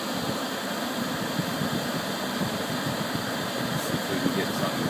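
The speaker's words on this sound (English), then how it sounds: "we're sitting in the driveway idling" A steady, low engine idle drones on without change, a constant rumble with faint hiss and no voices over it.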